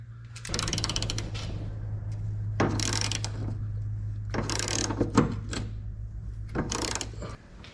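A worn ratchet with broken teeth clicks in rapid bursts during a 1986 Trans Am fuel tank swap, several loud rattling runs separated by short pauses over a constant low hum.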